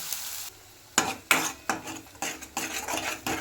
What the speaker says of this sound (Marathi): जिरे आपण वाटलेलं हे मसाला मस्त असं परतून घ्यायचं